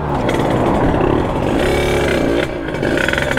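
A Sherco supermoto fitted with a 77cc Metrakit engine buzzes and revs as it rides off, the raspy two-stroke note rising and falling through gear changes, close and loud with no talking.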